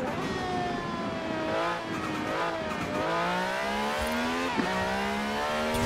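In Forza Horizon 4, an S2-class barn-find car with a screaming engine revs hard through rising and falling gear changes, with tire squeal mixed in, loud and continuous throughout.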